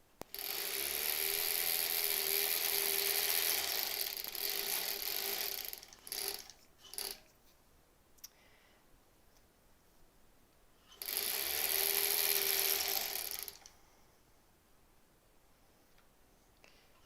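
A sewing machine used for a granny squares quilt runs in two long, loud, close bursts of fast ratcheting clatter, each coasting on for a few stitches after the hand wheel is let go, with quiet clicks between.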